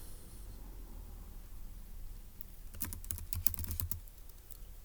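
Typing on a computer keyboard begins midway, a quick irregular burst of clicking keystrokes up close against a low, steady room hum.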